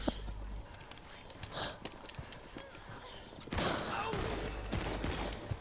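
Gunfire in Red Dead Redemption 2 heard from first person, several scattered shots and bursts, with a loud, dense volley breaking out midway and continuing to the end.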